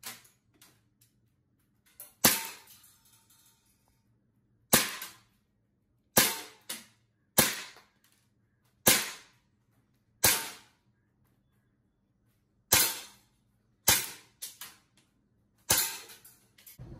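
Ten sharp pops from a Beretta M92A1 full-metal CO2 BB pistol, fired one at a time at uneven intervals with quiet gaps between, each snapping crisply and fading fast.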